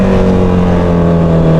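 A Honda CB650R inline-four motorcycle engine runs close and loud in a steady, continuous drone with a slightly raspy tone, holding an even pitch throughout without distinct rev spikes.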